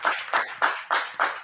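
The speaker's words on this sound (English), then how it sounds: "Clap it up." Five steady, evenly spaced claps ring out close and crisp, each a sharp slap with a short decay, in a regular rhythm with no voices over them.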